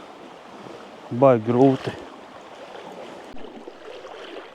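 A strong river current at high water rushes in a low, steady wash, with a brief strained exclamation from a paddler cutting in partway through.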